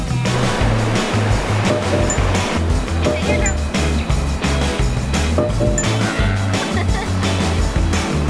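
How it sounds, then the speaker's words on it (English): Ocean waves break on a beach in El Salvador, a loud, continuous rushing surf with rolling low rumbles and bursts of spray. "These waves, honestly, they're so good."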